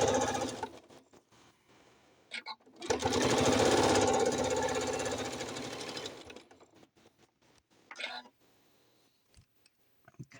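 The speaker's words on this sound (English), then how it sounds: "oh my gosh, I can't believe she's using her walking foot going that fast." A Janome sewing machine with a walking foot races along while sewing a quilted bowl cozy. One loud, sustained high-speed run is flanked by shorter bursts and clicks.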